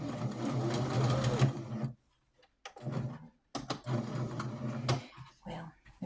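A sewing machine fitted with a quarter-inch foot stitching quilt pieces, running in bursts of rapid, even mechanical whirring and clatter with short silent pauses between runs.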